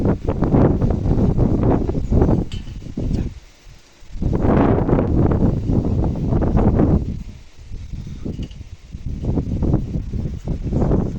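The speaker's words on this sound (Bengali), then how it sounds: "হাওয়া দিচ্ছে, ধরানোর বার নেই" Strong gusts of wind buffet the microphone with a heavy, rumbling roar that surges and eases over several seconds.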